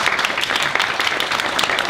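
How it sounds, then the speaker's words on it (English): Dense, continuous applause from the audience at a state legislative candidates forum, a steady wash of many hands clapping with no talk over it. "hold the applause, please."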